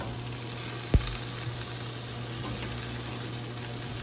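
Chicken wings for garlic buffalo wings sizzle steadily on a hot grill just after being flipped, a constant close hiss with a single sharp knock near the start.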